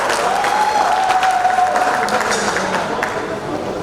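Loud, steady audience applause at a gala night for a partner meet, following a dance company's stage performance, with dense clapping sustained throughout and a faint tone running beneath.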